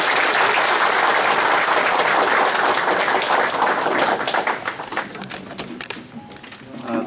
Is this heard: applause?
yes